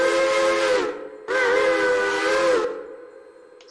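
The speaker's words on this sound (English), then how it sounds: "We have 1361's Pennsylvania Railroad 3 chime." A Pennsylvania Railroad three-chime steam whistle in the train game Railroader, two loud, steady harmonic blasts, a short one then a longer one, each with a hissy steam edge and a quick fade, no talking.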